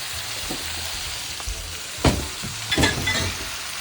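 Vegetables with chilli flakes, turmeric, coriander powder and salt sizzle softly in a pan, with a few scraping stirs and clinks over the steady frying hiss.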